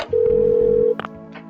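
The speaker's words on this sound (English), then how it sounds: "There's a phone over here." A telephone in the video game Parasite Eve 2 gives a short, loud electronic ring, a steady single tone lasting under a second, followed by a brief trailing blip.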